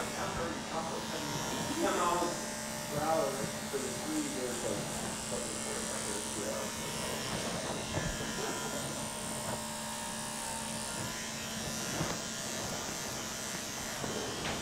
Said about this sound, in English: Andis has this super strong cordless detachable clipper